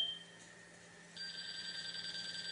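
A Spectra Precision LL100 laser level receiver: a high, steady electronic tone sounds faintly, then a louder continuous beep takes over partway through and holds to the end.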